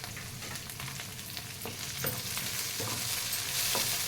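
Onion rice frying in a pan as coriander and curry leaves go in, a constant sizzle broken by repeated spatula scrapes and stirs that grow slightly louder toward the end.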